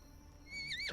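A horse whinnies in the medieval farming game Medieval Dynasty, a short, loud neigh with a falling, wavering pitch that rises out of quiet ambient background near the end.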